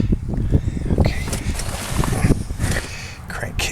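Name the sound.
wind blowing on a cold day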